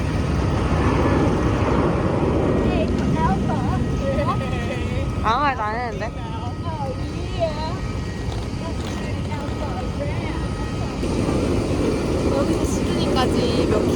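Aircraft engines hum and whine steadily in the background while boarding a plane during a winter trip in Australia, with people talking nearby.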